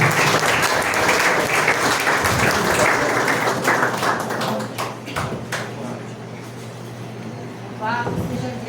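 A church congregation claps loudly and continuously, the dense applause gradually thinning toward the end, with voices and a murmur of people mixed in beneath it.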